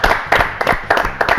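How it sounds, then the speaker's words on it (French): A studio audience claps for Colonel Rayel, a brief burst of rhythmic, loud applause in even beats close to the microphone. "Applaudissements pour colonel Rayel."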